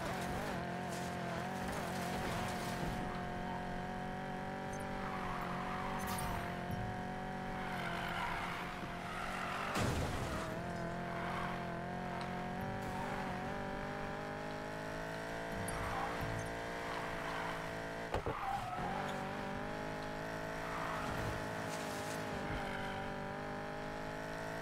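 Audi R8 race car in the Need for Speed Payback racing game, with a steady, loud high-revving engine drone throughout and brief tire squeal as it corners, without talk.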